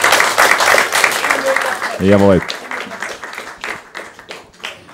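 Scattered clapping from a group at a tournament award ceremony carries under lively talk, with a single voice exclaiming loudly partway through.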